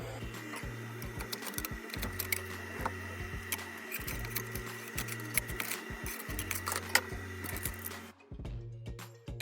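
Several 3D printers run together while printing face shields, giving a steady mechanical whir with repeating low stepper-motor drones and rapid clicks and ticks, continuous and close, with a brief drop near the end.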